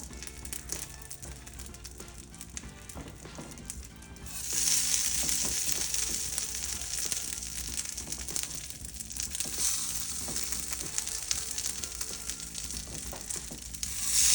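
Bonito fries in Kikkoman sesame oil in a pan, giving a steady, close sizzle that grows louder and busier partway through and keeps crackling to the end.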